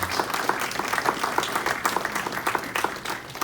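An annual township meeting audience at a senior center applauds its volunteers, a steady wash of many hands clapping at moderate distance with no talk over it.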